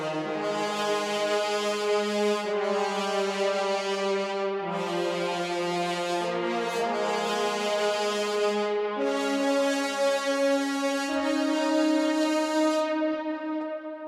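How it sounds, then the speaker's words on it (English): Layered French horn section from a hybrid trailer track sequenced in FL Studio, playing a sustained, swelling melody with long held notes and gentle dynamic movement, loud and continuous throughout. "I added one more section of French horns playing an extra melody"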